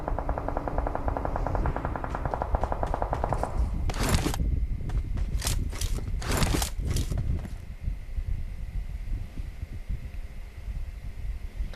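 Gunfire from the mobile battle royale PUBG Mobile: several sharp bursts and single shots crack out in the middle stretch over steady game background noise, with faint player voices in places.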